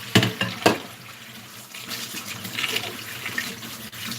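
Water drains from a kitchen sink, a close, faint gurgling and splashing with a couple of sharper clunks near the start.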